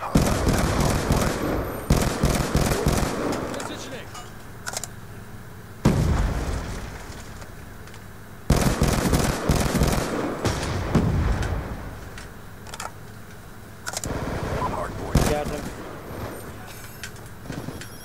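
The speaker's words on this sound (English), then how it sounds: "We're just chucking grenades like it's hard boy." Repeated grenade blasts in a multiplayer shooter match on a hardpoint map go off in clustered bursts of heavy booms and crackling debris, with short gaps between volleys and no talking.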